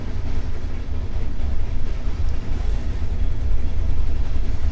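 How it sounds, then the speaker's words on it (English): A train rumbles past in the video game State of Decay 2, a loud, continuous low rolling roar with a brief high whine partway through and no talking. "and there's a train coming."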